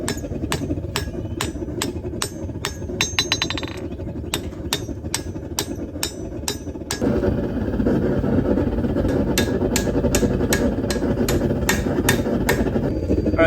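Steel hammer strikes on hot steel while hand forging a chisel, evenly spaced sharp ringing blows in long runs, over a steady roar from a forge or machine that grows louder partway through.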